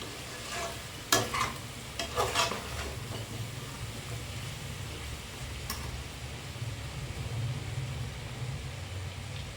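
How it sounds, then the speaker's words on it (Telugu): Chili powder fries in oil in a pot for a goat brain pulusu. A soft continuous sizzle runs throughout, with a brief cluster of scraping stirs near the start and one more later. Nobody talks. "కొంచెం కారం అయితే ఆయిల్లో వేగనిద్దాము"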